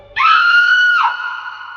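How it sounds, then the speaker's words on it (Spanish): A single piercing scream erupts suddenly, holds a sustained high shriek for about a second, then trails off into a fading tail, loud and isolated against silence, serving as a horror effect. "un alarido cruzó las calles."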